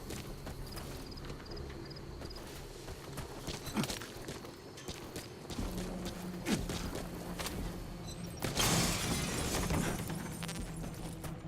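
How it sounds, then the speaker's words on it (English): Glass shattering underfoot as a character casually walks through a pane in Metal Gear Solid V: The Phantom Pain, a loud crunching burst near the end over steady game ambience and footstep-like clatter. "Casually walk through the glass."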